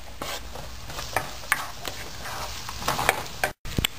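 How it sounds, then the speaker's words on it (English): Onion frying in a pan for a pomfret fish curry, a soft continuous sizzle with occasional spatula taps and stirring scrapes, close, with a brief dropout near the end. "I will fry this onion till it becomes"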